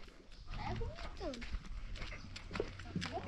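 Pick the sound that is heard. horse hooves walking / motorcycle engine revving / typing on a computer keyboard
horse hooves walking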